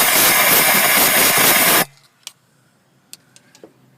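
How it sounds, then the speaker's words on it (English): Compressed air blasts into the empty spark plug hole of a 2.0L Duratec engine in a 2005-2011 Ford Focus. A loud, steady hiss runs for about two seconds and cuts off abruptly, leaving a few faint clicks. "Now once that plug's out, I like to put air in the hole again."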